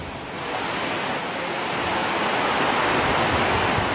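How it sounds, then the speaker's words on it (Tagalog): Dense, steady roar of heavy typhoon rain pouring down in Basey, Samar, a constant hiss that builds slightly louder over a few seconds, with no voices. "Nagsimulang lumakas ang ulan, madaling araw pa lang."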